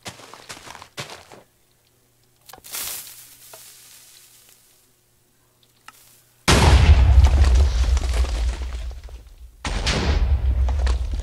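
A pistonless hybrid cannon fires in a video game: scattered clicks and a brief whoosh lead into a loud, booming blast that becomes a sustained roaring crackle, then a second heavy explosion rumbles on.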